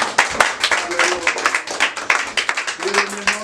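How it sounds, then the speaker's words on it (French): A church congregation claps during worship, giving dense, steady, fast rhythmic clapping with voices talking and calling out over it. "Acclamons pour la gloire."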